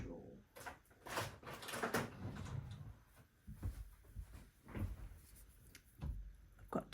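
Rummaging through a home sewing-room drawer in search of tape, with scattered knocks, rustles and clatters of objects being shifted, close and moderately loud, in uneven bursts throughout.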